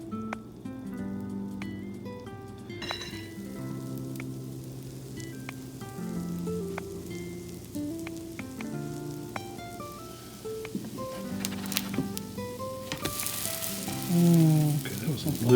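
Hoe cake batter sizzling on a griddle, a continuous soft frying crackle with scattered pops, close and steady, under background music, swelling louder toward the end.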